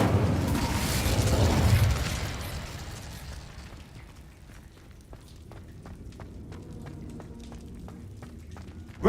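Incendio fire spell cast in the Hogwarts Legacy video game: a loud roaring burst of flame for about two seconds, fading into a quieter crackling, ticking tail with sharp clicks.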